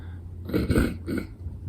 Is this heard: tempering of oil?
no